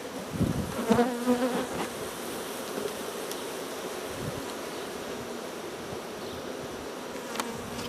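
A dense, steady buzzing of many honey bees fills the air, continuous and close, with a few louder bumps near the start.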